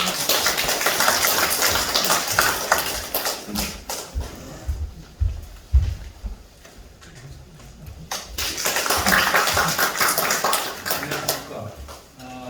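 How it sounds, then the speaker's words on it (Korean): Audience applause at a neighbourhood Moa Town redevelopment briefing in the Cheonho 1-dong community centre, welcoming a committee chairman: a dense wash of many hands clapping, fading midway under a lone voice, then swelling again. "우리 박수로 맞아주십시오"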